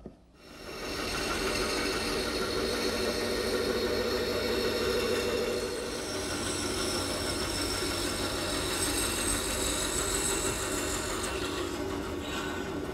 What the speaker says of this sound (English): let's make the decorative cutouts on the bottom at the bandsaw